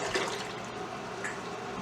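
Water pours steadily into a pot for apple pie filling, a continuous close splashing and running stream with no break across the short stretch.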